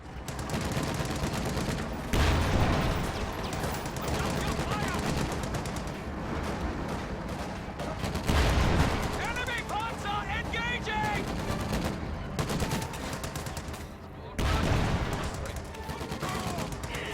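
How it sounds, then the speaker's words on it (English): Battle noise in a WWII strategy video game: sustained gunfire and heavier blasts rumble throughout, with loud surges at a few points, while voices talk over the combat. "Receiving effective fire. Enemy fire."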